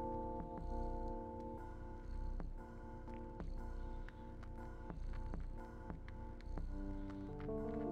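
Cat purring while napping in the video game Stray, a soft rhythmic purr pulsing steadily over a bed of sustained musical tones throughout.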